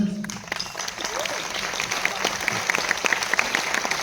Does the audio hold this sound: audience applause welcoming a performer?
yes